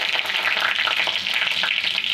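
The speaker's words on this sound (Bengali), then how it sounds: "তেল গরম হয়ে গেছে, আমি এখন দিয়ে দিচ্ছি শুকনো লঙ্কা।" Dry red chillies and panch phoron hit hot oil for Bengali bhuna khichuri, giving a steady, loud, crackling sizzle with no talk.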